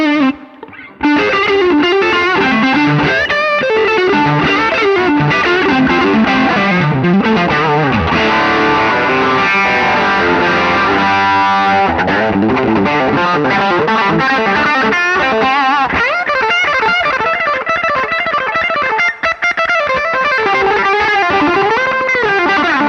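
Electric guitar through a Vemuram Jan Ray overdrive pedal, a loud, continuous driven passage of chords and single-note lines with rich, crunchy sustain and no talking.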